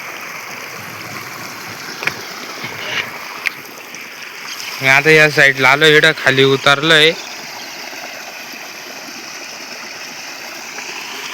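A small village stream keeps flowing in a soft steady wash while someone speaks briefly in the middle, with a few scattered footstep-like knocks before his voice.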